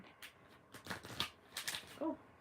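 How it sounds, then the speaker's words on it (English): A deck of cards is shuffled in quick riffling bursts, several short crisp flutters close by, ending with a faint tonal squeak. "I didn't want to shuffle right there."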